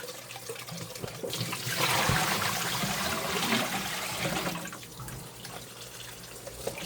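Warm tap water runs into a bowl being rinsed, a steady splashing rush that swells in the middle and eases off toward the end, heard close with no talk.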